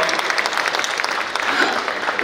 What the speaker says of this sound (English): Okay, you can applaud now.